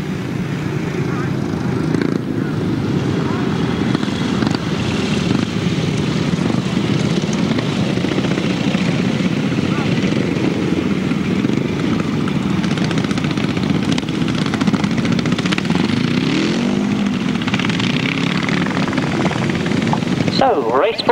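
Engines of 500cc sidecar motorcycles racing on a grasstrack at the Battle of Hastings meeting, a loud continuous roar and drone throughout with a commentator's voice over it.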